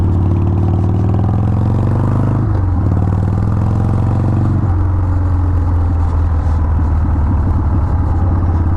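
A Harley-Davidson 883 Hugger idles loudly up close, its steady low rumble lasting throughout with small wavers in the engine note and no talking.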